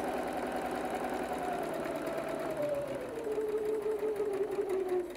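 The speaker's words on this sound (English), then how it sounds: "So I'm just going to stitch around here." A sewing machine stitching velvet bag pieces with a 1/4 inch seam allowance, a fast steady mechanical whir with rhythmic needle clatter, close and continuous, with a tone that drifts lower as it runs.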